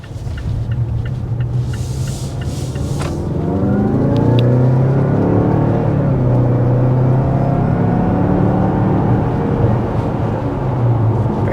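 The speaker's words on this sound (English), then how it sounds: "let's go ahead and see what this turbo is like accelerating" A 2024 Mazda CX-5 turbo engine accelerates hard from inside the cabin, a steady rumbling drone whose pitch climbs through the gears, loud and continuous with no talk.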